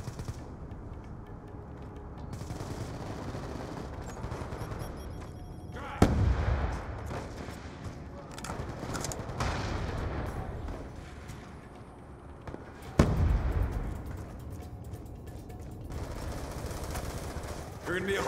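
Gunfire crackles in Call of Duty Black Ops 2 on PC, rapid bursts of shots with two sharp louder blasts, mixed with in-game voices and battle noise throughout.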